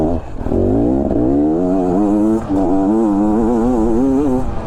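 A 2022 Beta enduro motorcycle engine revs loud and close, its pitch climbing and wavering through two pulls with a short dip between, steady and dominant with no voices.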